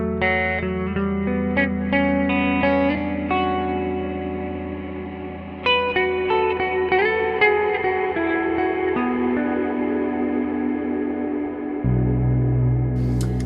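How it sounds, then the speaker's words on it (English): Guitar played through a Line 6 HX Stomp with a textural reverb blended dry and wet, picked notes ringing into a long, washy, echoing tail, with sustained chords swelling underneath and a lower tone entering near the end. "so that I can have like a textural reverb on the background"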